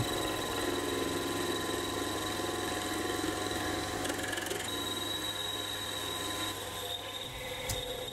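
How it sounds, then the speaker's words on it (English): Metal lathe turning and facing a tool holder blank, the machine laboring on the tough material: a steady mechanical whine and hum with a sustained high tone, continuous and close, with no talking. "Now I could really tell that the lathe was struggling with this material"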